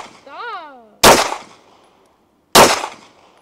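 Two sharp, loud pistol shots from a PSA Dagger, a Glock 19 Gen 3 clone, fired about one and a half seconds apart outdoors, each with a short decaying tail, after a brief rising whistle-like tone at the start.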